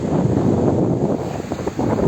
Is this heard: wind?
yes